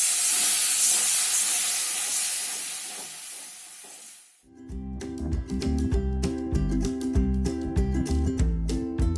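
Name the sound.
water added to cauliflower roast in a hot pan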